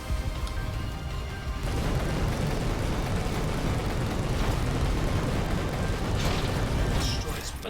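Bomb explosions in Final Fantasy XV, a continuous heavy rumbling roar with dense crackling debris, loud and sustained throughout, with a few sharper bursts near the end.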